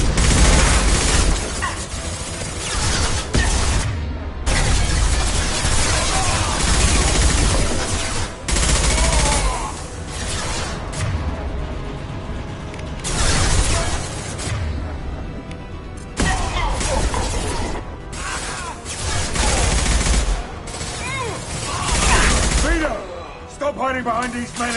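In Mass Effect 2, heavy weapon fire erupts in repeated loud bursts and booms, with dense volleys broken by brief lulls, and voices shout amid the combat.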